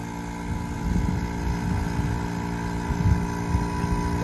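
A vacuum pump evacuates a car's AC system, a steady droning motor hum with a faint rhythmic pulse, running continuously and close by with no talking.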